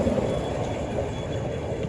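A 7 1/4 inch gauge electric locomotive, rebuilt as electric, runs steadily on a miniature railway, giving a continuous close rumble and rolling wheel noise with no voices.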